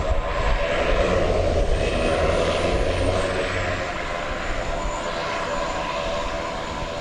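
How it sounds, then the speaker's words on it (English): A Cessna Super Cargo Master cargo plane, arriving at DFW Airport at night, drones with a steady propeller engine that rises slightly then fades a little as it passes, continuous and moderately distant. "Cessna Super Cargo Master, operating for Martin Air."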